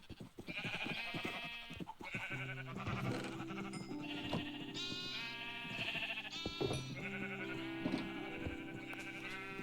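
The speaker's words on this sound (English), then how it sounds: "Help get some more sheep in here." Sheep in the video game Minecraft bleat repeatedly, several overlapping baas in quick succession, clear and steady over a quiet game backdrop, with no speech.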